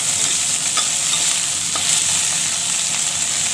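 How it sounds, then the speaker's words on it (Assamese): Potatoes fry in oil in a wok with a loud, steady sizzle, and a utensil stirs them now and then with faint scraping clicks. No one speaks. "আলুখিনি অকণমান ভাজি লওঁ"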